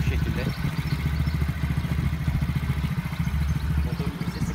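A Kuba RX9 50cc motorcycle engine idles close by with a steady, low, even putter throughout, while someone talks over it.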